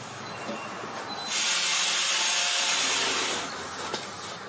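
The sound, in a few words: removing rust from metal with grinder and rubbing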